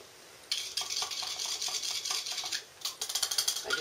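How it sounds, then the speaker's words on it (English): A small whisk stirs a homemade liquorice allsorts fragrance oil blend for cold process soap, a close, busy run of light metallic clicks and scrapes against the container that quickens toward the end. "I just wanted to give my fragrance a stir"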